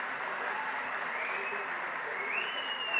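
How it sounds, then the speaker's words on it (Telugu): An audience at a political speech by Telangana Chief Minister Revanth Reddy applauds with steady, dense clapping that sounds fairly faint and distant, continuing without a break. "మీరు చప్పట్ల ద్వారా అభినందిస్తే"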